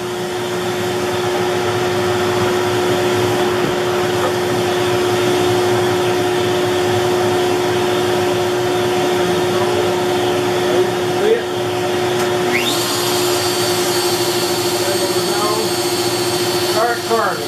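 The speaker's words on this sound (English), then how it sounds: "after I turn on my vacuum here" A workshop shop vacuum runs for dust collection while an X-Carve CNC machine carves. It gives a steady, loud whirring hum with a constant tonal whine, and some higher machine tones rise near the end.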